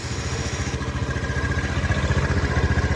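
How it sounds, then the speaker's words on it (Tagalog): A Honda Beat FI scooter, back in running order after an ECU repair, idles close by with a steady, pulsing putter and no voices. "Yan, andar na po ang Beat FI."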